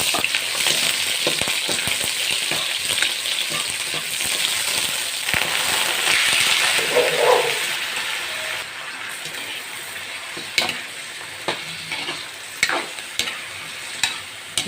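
Onion sautéing in a pan for chicken adobo, a loud close sizzle with rapid crackling pops and repeated scraping as it is stirred, continuing without talk for the whole stretch.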